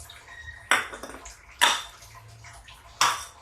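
Makhana and cashews dropped into a pot of kheer, heard as three sharp metallic clinks and clatters of a spoon against the pot, close up and quiet between hits.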